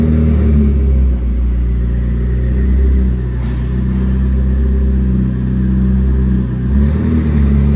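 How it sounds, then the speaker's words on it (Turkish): A Ford electric car runs on a dynamometer in a garage, giving a loud, steady low rumble and drone that swells slightly partway through, with no voices over it. "Ford'un elektrikli arabası"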